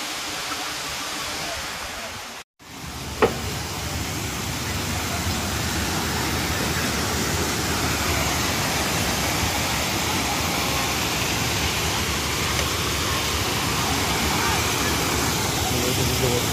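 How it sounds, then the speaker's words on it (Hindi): Waterfall at a picnic spot in Kampot, Cambodia, pouring in a steady, loud, broadband rush that fills the whole stretch, with one brief dropout and a small knock early on. "आवाज आ रही है पानी"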